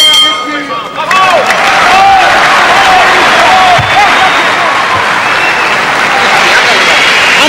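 Boxing arena crowd near the end of a round roars and applauds loudly, a sustained wash of clapping, cheering and hubbub that swells after the first second and holds steady.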